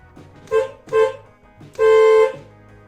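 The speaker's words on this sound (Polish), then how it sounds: "Czy działa klakson?" A Polski Fiat 125p car horn sounds three times nearby after the car sat unused for years: two short toots followed by one longer honk, with quiet pauses in between.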